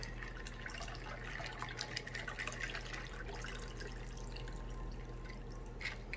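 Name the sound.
pouring a mixed drink into a cup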